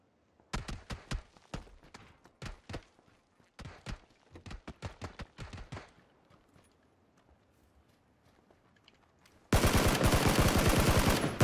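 A SCAR rifle in a first-person shooter fires on single-shot mode, a string of sharp, loud individual cracks in irregular bursts, fading out, then a sudden burst of dense, loud noise at the end.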